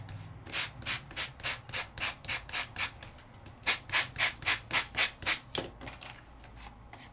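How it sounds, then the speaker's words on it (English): Hand sanding blue ink off a die-cut paper piece to expose the white card underneath, heard as steady rhythmic back-and-forth rubbing strokes, close and fairly loud, with a brief pause mid-way before the strokes resume. "sand off that blue to expose the white"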